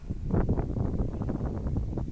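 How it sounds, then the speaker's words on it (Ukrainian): Steady, blustery wind buffets the microphone with low rumbling gusts, loud and continuous throughout. "Зірвався вітер"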